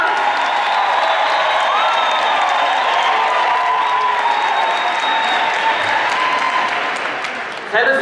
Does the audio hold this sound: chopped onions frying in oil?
no